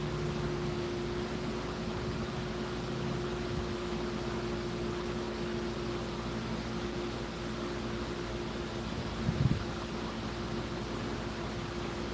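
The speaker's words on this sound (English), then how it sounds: "I have a fan going, which keeps drying my stuff out" An electric fan runs steadily in a pottery room, giving a constant broadband whoosh with a low motor hum, close and unbroken, with a small knock near the end.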